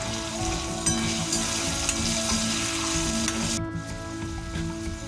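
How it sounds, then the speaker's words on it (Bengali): Pointed gourd (potol) frying in hot oil in a kadai with salt and turmeric, a steady close sizzle and crackle that runs throughout, with the high hiss thinning near the end. "পটলগুলো লাল লাল করে ভাজা হয়ে গেছে"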